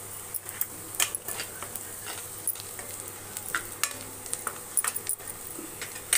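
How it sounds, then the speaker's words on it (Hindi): Yogurt going into a sizzling masala for a dhaba-style okra (bhindi) gravy, with a soft steady sizzle under scattered spoon scrapes and clinks against the pan, close and quiet, with no voice. "अब इसमें हम दही डालेंगे"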